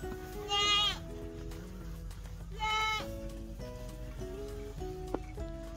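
Two loud, shaky bleats from a goat at a Christmas tree farm stand out, followed by quieter, lower bleats and a brief sharp knock.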